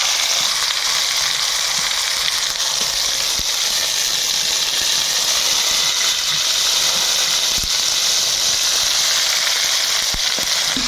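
Tomatoes sizzle in a pan of hot oil with cumin paste, bay leaves and five-spice seeds, a steady loud frying hiss that runs without a break and has no talk over it.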